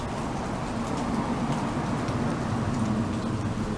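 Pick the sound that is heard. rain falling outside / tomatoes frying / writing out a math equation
rain falling outside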